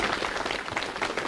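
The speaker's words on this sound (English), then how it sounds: "How dare you applaud that?" Studio audience applause on a 1997 Irish television talk show, a steady wash of clapping from a crowd that holds loud and even for the whole moment with no voices over it.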